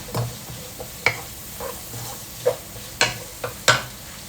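Stirring in a pan of prawn-flavoured oil with a steady low sizzle, broken by several sharp scrapes and clinks of a spatula at irregular intervals, close by with no talk.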